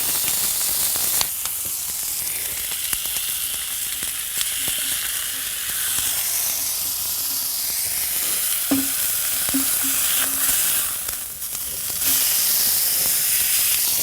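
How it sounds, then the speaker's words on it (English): Scallions cooking in oil straight on a hot griddle, a loud, close, continuous hiss and sizzle that swells and eases, with a few scraping and clicking touches along the way and no voices. "I'll cook a few scallions just straight onto the griddle"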